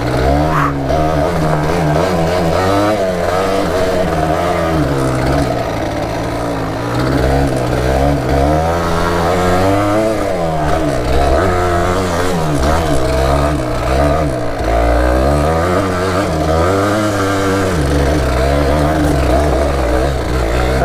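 A Yamaha DTR 125 two-stroke trial motorcycle is ridden and revved close by, its engine note rising and falling continuously through repeated throttle blips.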